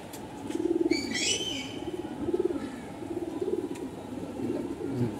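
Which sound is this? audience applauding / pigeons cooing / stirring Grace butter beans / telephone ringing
pigeons cooing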